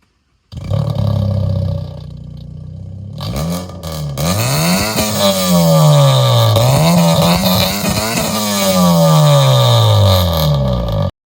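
A loud, modified 2006 Honda Civic engine revs repeatedly from outside, rising and falling in sharp roaring bursts with a raspy exhaust growl.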